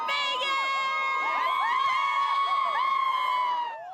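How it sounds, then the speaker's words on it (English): Winnipeg Jets fans packed into the Portage and Main intersection for a big playoff moment, a loud, sustained roar of cheering crowd with shrill whoops and shouts layered throughout, fading slightly at the end. "Winnipeg Jets fans congregated where they always do for big moments at the iconic intersection of Portage and Main"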